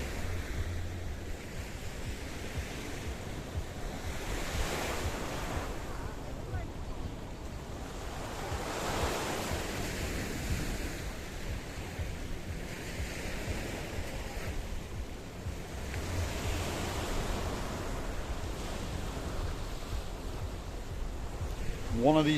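Waves from the Mediterranean Sea wash in at Paphos, Cyprus, heard from a hotel vantage point as a distant rolling surf with slow swells, mixed with steady wind noise.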